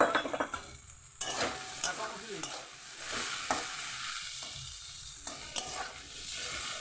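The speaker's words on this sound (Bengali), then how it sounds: "লঙ্কা দিয়ে আমি আরও একটু কিছুক্ষণ ভেজে নেব যাতে লঙ্কাটা ভাজা ভাজা হয়ে যায়" Eggplant and green chillies fry in a pan with a steady sizzle, while a spatula scrapes and stirs through them in repeated close strokes, and no voices are heard.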